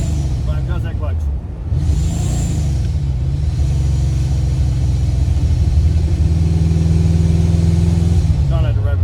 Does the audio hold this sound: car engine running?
yes